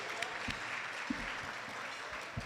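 A crowd at a live fundraiser event applauds with steady, moderately faint clapping that runs through the whole moment.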